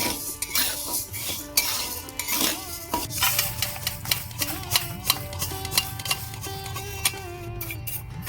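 Roasted Gobindobhog rice is tipped and scraped out of a pan in a home kitchen, with metal utensil clinks and taps, ringing pan scrapes and rattling grains in an uneven rhythm, close and fairly quiet.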